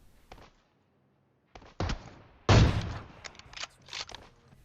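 Sniper rifle fire in the PUBG video game from an AWM and a Kar98: a few sharp cracks and bursts separated by short quiet gaps, one shot louder and fuller than the rest, with no voices.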